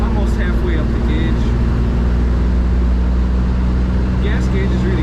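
1950 Chevrolet Deluxe Convertible engine idling smoothly, a loud, close, even rumble that holds steady throughout with faint clicks on top.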